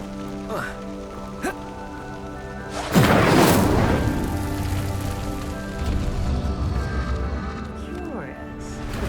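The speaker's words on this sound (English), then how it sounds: "The flames make the pyre sink." Flames roar up around a sinking pyre in Hogwarts Legacy, a loud burst of fiery whoosh and rumble after a few soft clicks, then settling into a steady crackling wash under faint game ambience.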